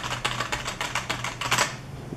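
Rapid typing on a PS/2 computer keyboard, a dense run of close, crisp key clicks with a few louder strokes, heard alone without talk.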